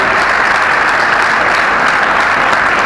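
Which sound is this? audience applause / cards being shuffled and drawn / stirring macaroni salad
audience applause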